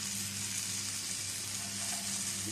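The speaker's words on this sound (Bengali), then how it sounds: "গুলিয়ে রাখা মশলাটা দিয়ে এবারে লো স্টিমে তিন থেকে চার মিনিট ধরে একটু কষিয়ে নেব" Spice paste frying in a pan over low heat for a vegetarian drumstick curry, giving a steady, even sizzle with no break in it and no talk.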